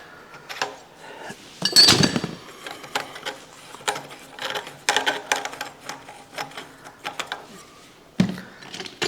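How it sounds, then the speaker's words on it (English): A muffler comes off a vintage 1950s 3 hp Briggs & Stratton engine, with scattered metallic clinks, scrapes and knocks from close by. One sharper clatter rises above the quieter handling sounds. "Let's get the muffler off."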